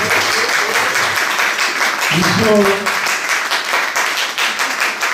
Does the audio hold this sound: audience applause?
yes